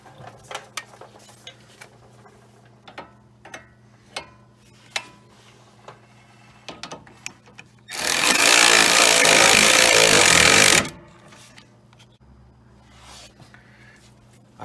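A torque wrench tightens the nuts on a sway bar link of a Chrysler Town & Country / Dodge Grand Caravan minivan. Light scattered mechanical clicks and taps come first, then a loud, dense burst of ratcheting lasting about three seconds before it drops back to quiet handling.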